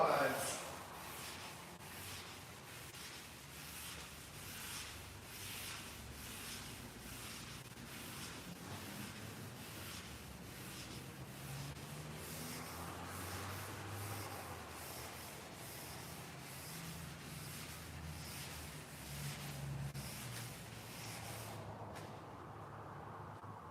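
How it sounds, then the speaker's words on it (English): Rhythmic back-and-forth rubbing strokes of fine sandpaper on a wet surface, steady and close, with a quiet voice murmuring underneath. "Wet sanding is taking a really fine sandpaper and smoothing out the surface."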